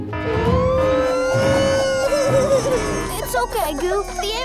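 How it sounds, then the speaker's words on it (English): A cartoon ambulance siren holds a long tone, then warbles and wavers, loud and close, with cartoon voices talking over it. "The ambulance is here."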